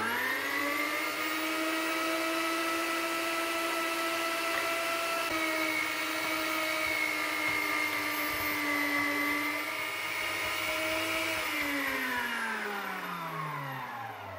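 A meat grinder runs steadily as it grinds peeled, chilled onion. Its motor holds a loud, continuous whine that slows and drops in pitch near the end, with no voices.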